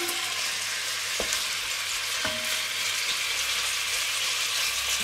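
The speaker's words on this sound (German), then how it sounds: "Tun es einmal von der Seite schön anbraten, bevor wir es dann wenden" Pork fillet sears in a pot, giving a steady, close sizzle and crackle of frying meat, with a couple of sharp clicks of a utensil against the pot.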